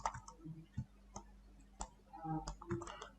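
Computer mouse clicking during Blender 3D modelling, a series of quiet, crisp single clicks spaced irregularly, with faint soft tapping between them in an otherwise quiet room.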